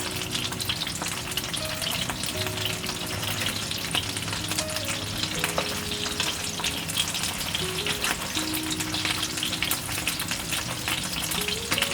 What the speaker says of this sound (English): ensure every fish piece can touch the oil.